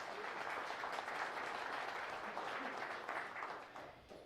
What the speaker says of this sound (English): So round of applause for Nikon.